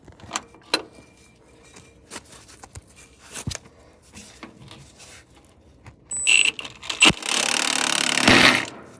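A wrench working on the bottom nut of a drive axle airbag on a Wanderlodge: scattered metallic clicks and taps, then louder clanking and a burst of harsh scraping near the end, close by.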